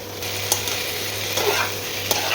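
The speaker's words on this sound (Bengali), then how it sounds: "দিয়ে ভালো করে নেড়ে চেড়ে ঢেকে দেবো।" Fried cauliflower and prawns are stirred in a hot pan. A steady sizzle runs underneath, with a few sharp spoon scrapes standing out close and clear, and no talking.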